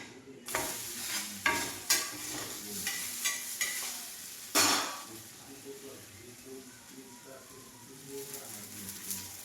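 Spinach dhapata flatbread roasting in oil on a pan, a soft steady sizzle with several clattering scrapes and taps of a spatula against the pan early on, then quieter frying.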